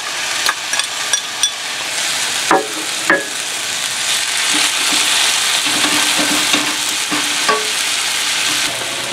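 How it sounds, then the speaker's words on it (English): Ground beef and onions sizzling in a cast iron frying pan, a steady close sizzle broken by scraping stirs and a few sharp utensil knocks against the pan, with no talking. "add the ground beef and onions to the frying pan."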